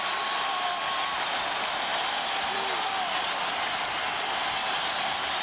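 Basketball arena crowd roaring on its feet during a Rockets–Lakers playoff game, a steady dense wash of cheering and applause sustained throughout with no pauses.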